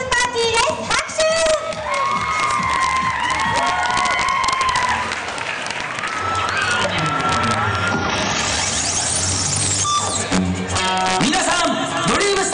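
A crowd cheers and claps as a mascot and Chia Dragons cheerleader dance show begins at a Chunichi Dragons event, with loud shouts and applause from adults and children over amplified announcements and rising music.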